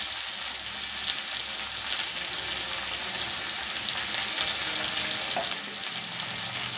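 Potatoes fry in a pan with green chili, tomato and ginger-garlic paste, making a loud, dense, continuous sizzle that holds steady from start to finish.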